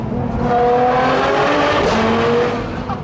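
A Ferrari 599 SA Aperta accelerates hard in a tunnel, its engine howling loudly with rising revs and a sharp exhaust crackle near the end, close and without talk.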